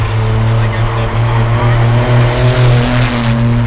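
A drift car's engine revs hard during a clutch kick, a loud continuous droning roar with rising and wavering pitch and tire noise over it, close and sustained throughout.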